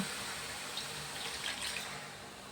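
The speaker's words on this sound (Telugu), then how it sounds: "నీళ్ళు పోసాను కొద్దిగా." A small amount of water is poured into a simmering curry, giving a steady, soft trickling wash that runs evenly for a couple of seconds with no talking.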